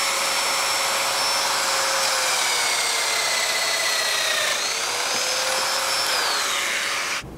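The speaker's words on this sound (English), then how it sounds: "I've changed it to a 28mm depth so I can plunge into the horizontal pieces." A Festool Domino DF 500 joiner plunges into wood at a 28 mm depth, giving a loud, continuous high-pitched motor whine with pitch dips as the cutter bites, close to the microphone and with no talk.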